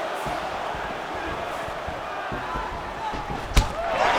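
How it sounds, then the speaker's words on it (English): A distant arena crowd murmurs and roars through an EA UFC 5 heavyweight bout, with dull thuds of strikes and a sharp slap-like impact over the constant buzz. "Crowd may be drunk, but they're absolutely loving it."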